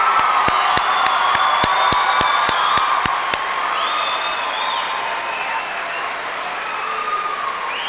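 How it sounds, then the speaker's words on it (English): A high school graduation audience in Port Huron cheers for alumni. A run of sharp, evenly spaced claps comes early, then continuous crowd noise carries shrill whistles rising above it. "Let's give these alumni a nice round of applause."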